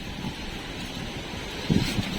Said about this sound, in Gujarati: જોરદાર પવન આવે ને.